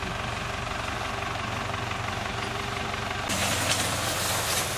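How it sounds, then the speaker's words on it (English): A farm tractor engine running with a scraper attached, steady low droning rumble that gets louder and harsher as it works, with no talk. "Henri's coming around to help me with his tractor."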